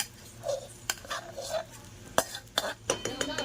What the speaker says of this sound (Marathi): आता आपण यात शाबू टाकूयात. हे आपण हे नीट आपण एकजीव करून घेऊयात सगळं.